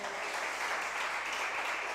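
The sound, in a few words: church congregation applause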